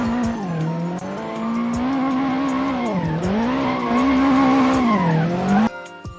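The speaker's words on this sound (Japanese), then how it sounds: "メル君、ドリフトは峠でのコーナー立ち上がり時のテールスライドとは別物ではあるけど、ドリフトの練習をしておくことでテールスライド時の応用につながる" An animated Toyota AE86 drifting on a mountain pass, its engine droning in a wavering pitch that dips and rises through each slide, with tire squeal layered on top, loud and close, then cutting off abruptly near the end.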